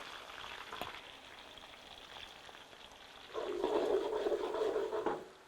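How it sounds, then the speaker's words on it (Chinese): Scallion, ginger, garlic and bean paste frying in hot oil in a wok, a soft sizzle that swells louder partway through and stays close, with no talk. "锅头先来一点油哈，把葱姜蒜放进来炸香"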